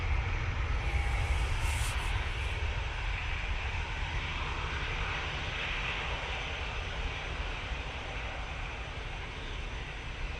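An Airbus A320neo jet passes at Manchester Airport with a loud, continuous engine roar and low rumble, strongest at the start and easing gradually as it moves away.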